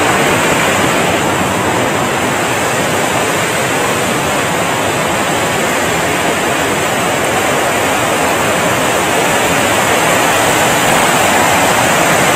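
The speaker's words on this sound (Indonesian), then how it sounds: "Berapa air terjun ya? Ada Curug Cisanca" Curug Cisanca waterfall in Ciater, Subang, pours with a loud, continuous broadband roar of falling water that stays even and unbroken throughout, with no voices.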